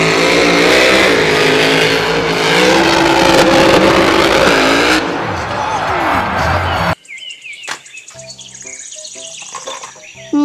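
Toy monster truck giving off bright electronic chirping and revving effects, loud and busy at first, then cutting to sparser, choppier sound bursts.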